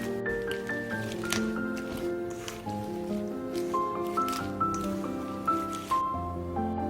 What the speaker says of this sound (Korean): 채 썰은 야채에 계란물을 부어주시고요. 소금 3분의 1스푼, 후춧가루 약간 이렇게 넣고 잘 섞어주세요.